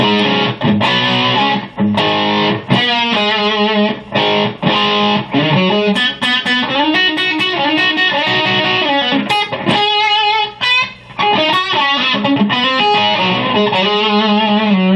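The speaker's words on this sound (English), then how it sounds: "it automatically comes on with my overdrive pedal on, and that sounds like this" Electric guitar driven through an overdrive pedal into a Mesa amp, playing loud, dense rock chords and single-note lines with sustained distorted tone throughout, alone without voices.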